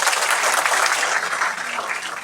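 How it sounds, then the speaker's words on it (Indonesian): Audience applause at a Padhang Mbulan gathering with Kyai Kanjeng, a loud, dense, steady clapping that fills the room for a couple of seconds without pause. "sekali lagi tepuk tangan buat Pak Is."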